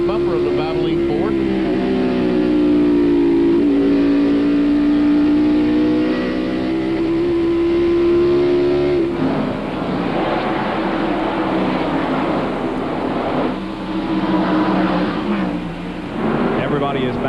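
NASCAR stock cars, including the Valvoline Ford, race at Bristol in 1995 with a loud, close engine roar that rises and falls as they circle, while a commentator talks over the racket.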